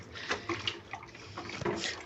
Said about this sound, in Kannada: ಜಸ್ಟ್ ಹಿಂಗೆ ನೀರನ್ನ ಅಲ್ಲಾಡಿಸ್ಬಿಟ್ಟು ಸೊ ಹೊಸ ನೀರು ಬಿಡೋದಷ್ಟೇ